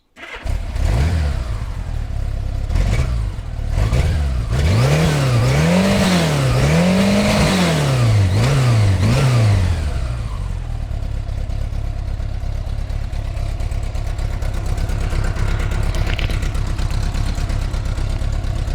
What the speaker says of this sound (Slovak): Toto je extrémne tichý a krásny zvuk štvorvalcového boxera.